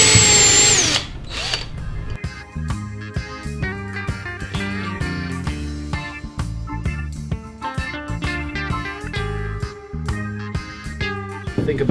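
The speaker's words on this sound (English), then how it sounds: "you do all your countersink drill holes" A power drill boring countersink holes whirs in repeated short bursts, its motor starting and stopping in an uneven rhythm, close and clear with no talking.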